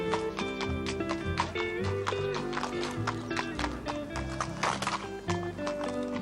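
Hooves of a horse clip-clop in a quick, steady rhythm of sharp taps, moderately loud, over a continuous tonal background.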